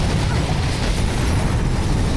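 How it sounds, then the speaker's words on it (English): A loud, rumbling explosion bursts in the parkour action game Mirror's Edge Catalyst, a thick, sustained roar of blast noise that stays heavy and dense for a couple of seconds without letting up. "Explosion over here."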